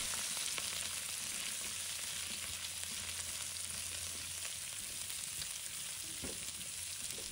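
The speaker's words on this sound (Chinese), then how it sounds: "翻炒均匀" Vegetable stems are stir-fried in a hot wok with a continuous, even hiss of sizzling oil and faint tossing movement, moderately quiet and close, with no voices.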